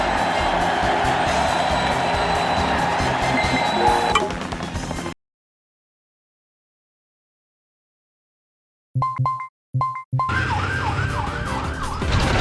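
Ambulance siren in a childhood driving video game, wailing loudly over engine noise, then dropping to silence before short synthetic blips and the warbling siren returning.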